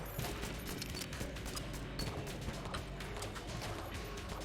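Rapid gunfire from the Mimic Gun in the video game Enter the Gungeon, a dense, continuous clatter of shots and mechanical game effects under a busy, loud mix.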